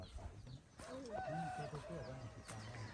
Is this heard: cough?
no